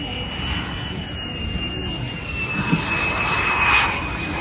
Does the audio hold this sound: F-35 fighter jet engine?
yes